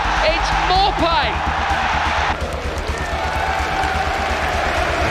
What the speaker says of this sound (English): Applause from the Tottenham Hotspur supporters behind the goal.